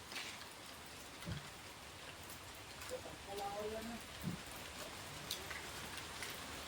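Steady rain patters continuously, with a voice briefly murmuring in the background partway through.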